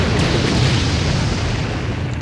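Explosion destroying the time machine prototype in the Empire Earth strategy game, heard as a loud, sustained low rumbling roar with crackling noise that holds steady across the whole moment, with no talking.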